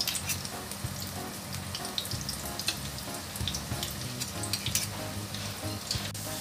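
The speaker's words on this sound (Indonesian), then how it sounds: "kita goreng sampai coklat keemasan ya" Oil bubbles and sizzles steadily as meatballs fry in a pan, a dense crackling hiss with occasional pops, fairly quiet and continuous with no speech.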